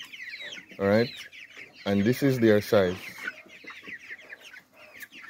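Four-week-old chickens cluck in short, bright bursts, one call and then a quick cluster of several, while someone talks nearby over the flock's softer peeping.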